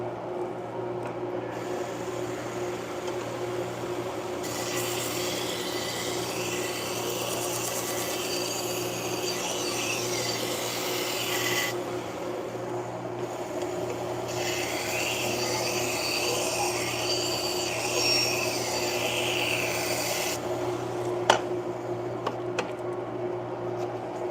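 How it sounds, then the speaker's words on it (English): Knife blade ground on a 1x30 belt sander, with a steady motor hum under two long stretches of raspy, hissing belt contact, each several seconds, close and moderately loud. "Just take your time with it on these 1x30s. You can sharpen a knife really well."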